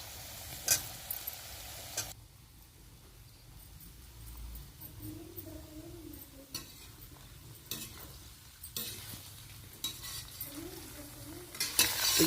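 Brinjal stirred in among new potatoes frying in oil, with a low continuous sizzle broken by scraping spoon strokes and occasional knocks against the pan, close by and fairly quiet.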